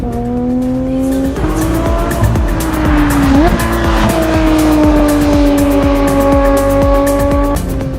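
Race car on the Le Vigeant circuit under light throttle, its engine droning steadily with shifting pitch and brief tire squeal, loud and close throughout.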